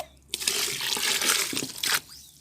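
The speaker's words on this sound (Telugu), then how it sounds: "కొంచెం వాటర్ అయితే యాడ్ చేసుకుంటున్నాను" Water splashes and gushes into a container for a couple of seconds, loud and close, then cuts off.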